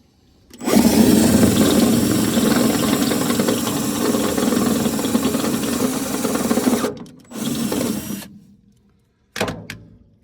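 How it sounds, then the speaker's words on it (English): A power drill fitted with a hole saw cuts upward through the underside of a gooseneck trailer, a loud steady grinding whine for several seconds, then stopping, a short second burst and a brief final spurt. "now we'll go underneath and go up from the bottom with the hole saw"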